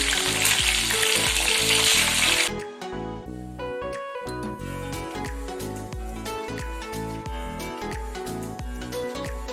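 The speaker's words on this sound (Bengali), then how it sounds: "এবার মাছগুলো আমি উল্টে দিচ্ছি" Fish pieces fry in hot oil after being flipped for a fish korma, a loud broadband sizzle in the first two and a half seconds that drops to a softer crackle under a steady tonal music bed.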